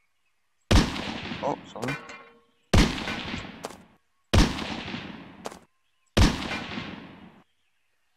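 Four loud, sharp gunshots from a virtual pirate-themed game, each a hard crack trailing into a decaying echo, spaced about two seconds apart; a voice speaks briefly between them.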